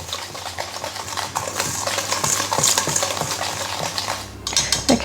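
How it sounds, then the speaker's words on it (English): Wet ingredients for an eggless carrot cake whisked briskly in a bowl, a steady close scraping and clinking of the whisk against the sides with rhythmic strokes throughout. "So we're just going to whisk"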